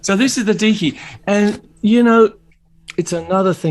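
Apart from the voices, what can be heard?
None of the usual background noises is heard.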